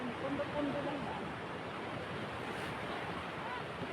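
Sea waves wash steadily around a swimmer in the open sea, a broad continuous surf rush with some wind noise on the microphone, fairly close and constant throughout.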